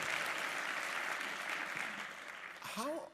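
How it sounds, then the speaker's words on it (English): Audience applause during a panel discussion and Q&A on ethics and hip hop, a soft, continuous wash of clapping heard from a distance that fades slightly before a voice cuts in at the end. "That's definitely worth applauding."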